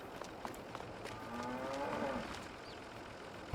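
A single cow moos in a long, low drawn-out call at moderate distance, over quiet outdoor ambience with a few small knocks, in the video game Farming Simulator 22.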